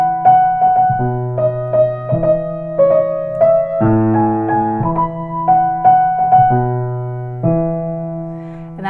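Piano playing the melody and left-hand bass notes of a song with the sustain pedal held, notes ringing into one another, loud and close with no talk.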